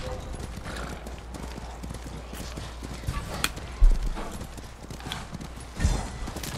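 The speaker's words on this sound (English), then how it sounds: "You gotta love taking just a horse ride in any video game." Horse hoofbeats clip-clop steadily while riding in Ghost of Tsushima, with a whinny or snort near the end and someone talking over the hooves throughout.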